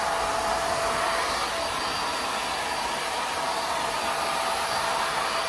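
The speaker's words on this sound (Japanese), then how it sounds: "もうドライヤーで" A hair dryer blows on a freshly cut bob haircut, a loud, unbroken whirring rush of air that holds at one pitch for several seconds with no talking.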